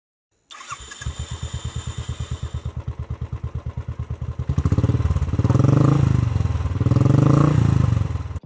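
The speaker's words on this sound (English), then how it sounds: "Now I can start the bike using my respective registered fingers" A motorcycle fitted with a keyless fingerprint unlock system is cranked over by its starter in a steady rhythmic chug for several seconds, then catches and fires up into a loud, rough running engine close by.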